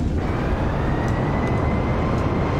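An Airbus A320neo in Microsoft Flight Simulator 2020 touches down and rolls out on landing in New Zealand, giving a loud continuous roar of engine and wind noise with a faint steady whine above it.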